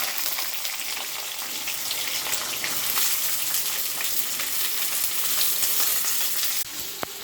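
Pumpkin, ridge gourd, eggplant and tomato sizzle and crackle loudly in a hot pan, a continuous close frying hiss with occasional stirring clatter.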